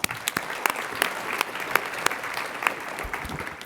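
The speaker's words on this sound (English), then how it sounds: "Please give them a round of applause." Audience applause at a school health award ceremony, a steady patter of many hands clapping with a few sharper, louder claps standing out, continuing without speech.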